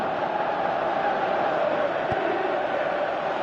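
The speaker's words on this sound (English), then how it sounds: "you can feel and hear how the crowd are reacting to all of this" Football stadium crowd at a Champions League match, a broad steady roar of distant massed voices with no distinct peaks, continuous throughout.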